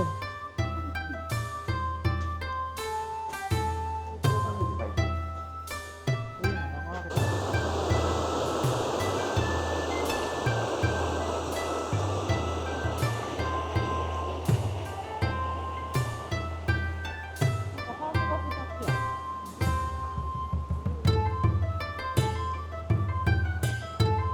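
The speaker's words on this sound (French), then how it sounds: "Et la fameuse cascade." The waterfall at Minoh near Katsuo-ji temple rushes in a steady broad roar, heard from nearby beneath a constant musical backing with no talk.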